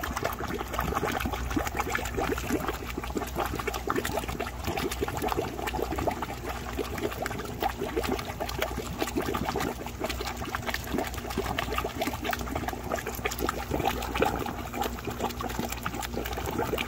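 Water runs steadily into a vortex aerator fitted with an air lift, a continuous close trickling and gurgling flow with no talking.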